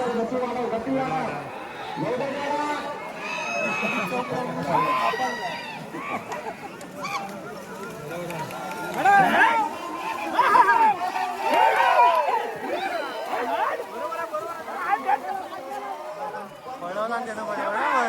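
A crowd at a bullock race in a muddy Konkan field keeps up dense chatter and shouting. Voices rise and fall, with louder surges in the middle, and people talk nearby.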